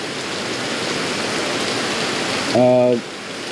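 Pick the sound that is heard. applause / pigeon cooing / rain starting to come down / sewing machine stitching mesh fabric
rain starting to come down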